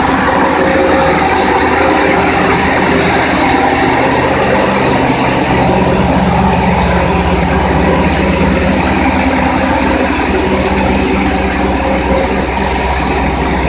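An electrical wire manufacturing machine bunches multiple tin wires together, giving a loud, continuous mechanical whir with steady rattling and ratcheting through the whole stretch and no speech.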